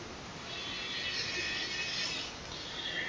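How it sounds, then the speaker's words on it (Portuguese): A small screw being driven into a Samsung Galaxy A11 phone during reassembly, a faint mechanical ratcheting texture over a continuous hiss. "Aqui eu vou ter que colocar um parafuso que ficou faltando."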